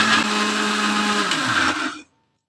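A mixer grinder whirs loudly and steadily while grinding ridge gourd chutney with jaggery, coriander and water, then cuts off abruptly after about two seconds, with no talking.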